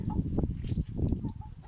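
A young rooster hatched in spring this year gives low, close clucks in short irregular bursts, with no talk over it.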